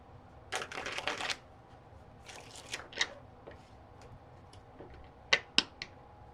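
Celtic Tarot card deck being shuffled, with quick crisp riffling bursts and scattered sharp card taps and snaps, fairly close and otherwise quiet.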